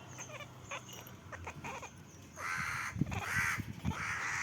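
Two harsh crow caws sound one after another near a tree, fairly close and loud against faint background noise and small scattered sounds.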